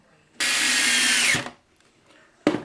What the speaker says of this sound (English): And then another pilot hole and another screw.